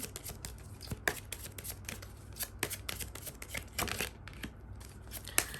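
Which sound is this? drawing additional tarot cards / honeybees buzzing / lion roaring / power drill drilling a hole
drawing additional tarot cards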